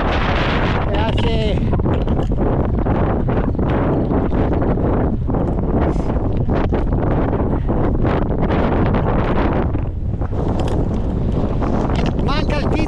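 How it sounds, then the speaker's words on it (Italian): Strong gusting wind roars continuously across the microphone during a gravel bike ride on the Arginello stretch in stormy weather, loud and close throughout, with a voice briefly surfacing under the buffeting. "Che vento!"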